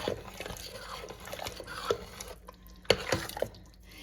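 A spoon stirs chilli ingredients in a pot with soft wet scrapes and a few sharper clinks against the metal, close and fairly quiet, with no talking.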